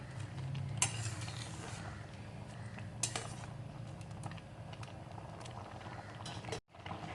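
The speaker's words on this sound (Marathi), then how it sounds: "म्हणून अधूनमधून याला हलव्याला आपण असं ढवळतच राहायचं आहे" Carrot halwa made with milk being stirred in a steel kadhai, a soft continuous bubbling simmer broken by a few sharp scrapes and clinks of the spoon against the metal, fairly quiet.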